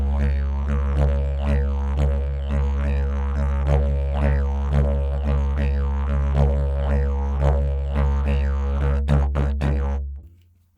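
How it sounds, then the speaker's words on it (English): Didgeridoo drone with a steady low fundamental, played in a lively five-eight rhythm; repeated pulsing accents and vocalized overtone shapes ride over the continuous buzz, loud and close, ending abruptly after about ten seconds. "on the didge, it would sound like this"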